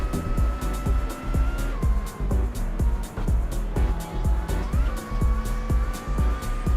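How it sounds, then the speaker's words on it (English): Race car engine in a sim racing video game, a steady droning note that rises and drops with gear changes, punctuated by a regular beat of sharp thumps, loud and continuous throughout. "Oh, I forgot how bad this car sounds."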